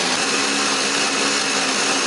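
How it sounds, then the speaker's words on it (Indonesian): An electric blender grinds spice paste with a little water or oil, a loud steady high-pitched whir running continuously and close up. "Aku menghaluskannya menggunakan blender, beri sedikit air ataupun minyak juga boleh"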